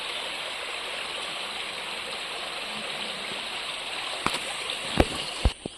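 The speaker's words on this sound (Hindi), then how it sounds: "पहाड़ का पानी ऊपर से नीचे की तरफ बह रहा है" A hillside mountain stream rushes steadily downhill, a continuous broadband wash of flowing water close by, with a few sharp splashes and knocks near the end.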